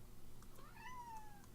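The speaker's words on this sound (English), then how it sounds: "Sorry for my cat again." A house cat gives a single drawn-out meow, faint and slightly distant, over a steady low background hum with no talking.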